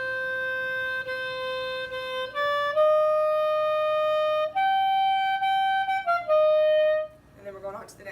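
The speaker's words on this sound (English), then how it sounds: "So this is the tenor sax line here." Band parts for tenor saxophone and French horn play a sustained melodic line of held notes, stepping between pitches, loud and clear, ending with a brief noisy tail.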